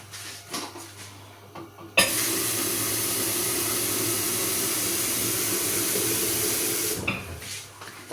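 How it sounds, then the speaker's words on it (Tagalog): Tap water runs steadily into a container in a home kitchen for about five seconds, a loud even rush with faint clinks and shuffling before and after. "Lagyan ko ito ng tubig."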